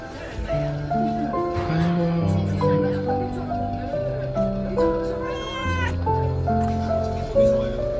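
A street cat with sore eyes living at a market meows repeatedly in drawn-out, plaintive cries, close and fairly loud, with steady background music or tones and some voices mixed in.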